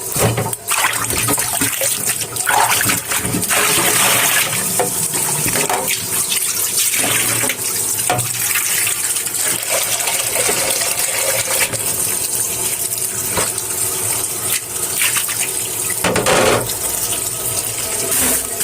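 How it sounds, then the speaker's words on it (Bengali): Soaked bottle gourd leaves are washed under running water, with a continuous gushing flow, splashing and occasional small clinks close by for a long stretch. "উপরে লাউ শাক আমি ভিজিয়ে এসেছি, এখন ধুয়ে বেটে নিব।"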